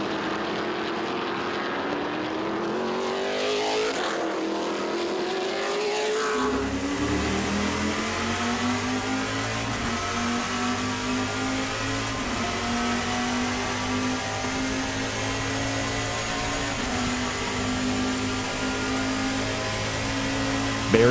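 The Kahlberg Racing Wyatt Fire Chevy Camaro race car at a 2024 Trans Am race in Portland, its V8 roaring louder as it closes in and revs climb, then holding a loud, steady high-rev howl with brief shifts in pitch.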